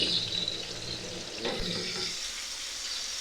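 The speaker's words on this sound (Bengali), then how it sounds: "এই মরিচটাকে ভালো করে ভাজতে নেওয়া লাগবে" Chilies fry in hot oil for a Bengali sweet gourd dish, a loud continuous sizzle and crackle with a stir midway that settles slightly quieter toward the end.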